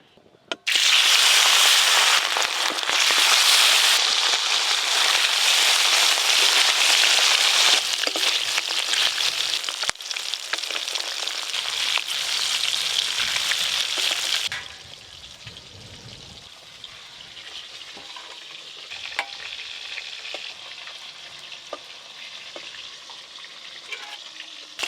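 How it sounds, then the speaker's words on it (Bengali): Hilsa fish pieces fry in oil with a loud, crackling sizzle for about fourteen seconds, then settle into a softer, quieter bubbling with occasional pops. No one speaks. "এবার ইলিশ মাছগুলো ভালো করে ভেজে নেব।"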